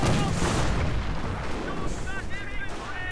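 Artillery shells and gunfire pound a base in a World War II real-time strategy game battle, a dense continuous barrage of booms and shots with scattered unit voice calls and clipped radio-style chatter mixed in.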